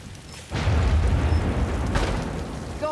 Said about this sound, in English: Fire the cannon. Boom, there we go. We broke our way in.